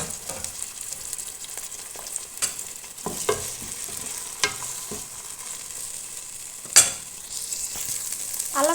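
Ginger garlic paste and curry leaves fry in oil with softened onions for mutton biryani. A low, even sizzle runs throughout, broken by occasional scrapes and taps of a stirring spoon.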